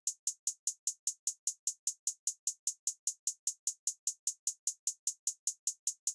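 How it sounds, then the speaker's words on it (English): A trap hi-hat plays a simple two-step pattern of crisp, evenly spaced ticks that repeat steadily at a quick pace, dry and alone. "just played this very simple two-step hi-hat pattern"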